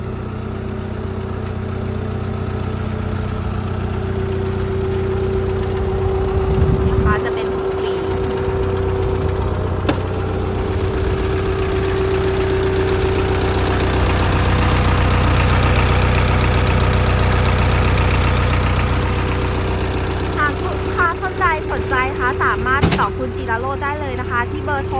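A steady, low diesel engine of a 1.5-ton Mitsubishi forklift idles nearby throughout, with a constant rumble and hum; a few faint chirps and clanks come in near the end.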